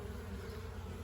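A swarm of bees at a swarm trap, their dense, steady buzzing drone close by and faint, alone without voices.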